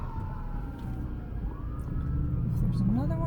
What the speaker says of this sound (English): A lot of people do not pull over for ambulances here